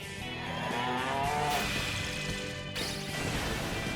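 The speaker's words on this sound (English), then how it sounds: "why do these sheep sound like cows? I think they're making cow noises" Deep, drawn-out cow-like mooing calls from sheep in the video game Digital Devil Saga, layered over steady game music and background noise, with a sudden shift in tone near the end.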